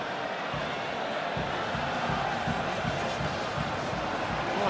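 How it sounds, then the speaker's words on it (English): Scottish supporters cheering in a packed rugby stadium crowd, a steady broad roar of many voices sustained throughout at a distance. "the Scots supporters were up cheering"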